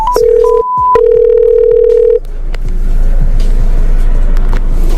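A car phone places a call from inside a vehicle during a traffic stop, with steady dial-tone beeps and a brief interruption, then road and engine rumble that takes over.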